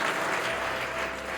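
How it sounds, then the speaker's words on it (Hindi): An audience clapping at a political meeting, a dense, steady burst of applause filling the short moment without talk. "क्या ताली बजाएंगे लोग?"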